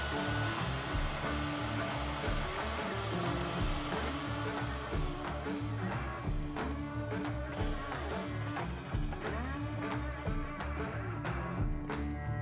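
A saw blade cutting splines into a plywood box held in a jig, a steady, close, droning whir with a grinding, rasping cut running through the whole stretch.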